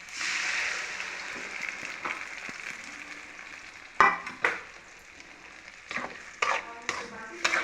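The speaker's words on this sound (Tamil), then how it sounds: "வெங்காயம், பூண்டு, இஞ்சி, கொத்தமல்லி எல்லாம் எண்ணெயில் வதக்கிட்டு இப்போ இது மசாலா" Masala is poured into hot oil holding sautéed onion, garlic, ginger, coconut, tomato and coriander for an egg curry. A bright sizzle rises at first, then fades into sharp scraping stir strokes against the pan.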